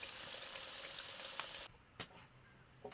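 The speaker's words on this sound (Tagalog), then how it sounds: "magprito na po tag kamote guys" Sweet potato (kamote) slices frying in oil in a pan give a steady, close crackling sizzle that drops off abruptly near the end, followed by a few sharp clinks and pops with no voices.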